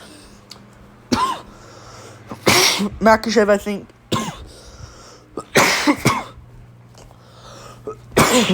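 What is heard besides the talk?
coughing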